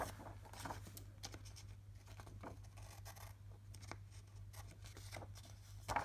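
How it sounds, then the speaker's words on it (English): Scissors trim excess backing off a large sticker on an A5 planner insert, with soft, quiet snips and papery scratches spaced over a faint steady hum. "So all I do then is trim off from the back the excess of this big sticker."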